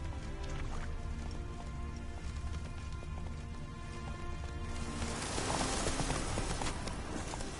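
Rapid hoofbeats of a galloping video game horse carrying a heavy load pound steadily throughout, dense and close, with a rushing, rain-like texture growing louder near the end.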